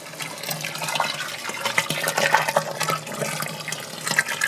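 Wort draining through a filter into a vessel during all-grain home-brew sparging, a steady close trickle and splash of liquid with small bubbling and dripping spatters throughout.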